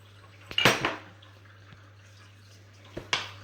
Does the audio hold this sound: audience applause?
no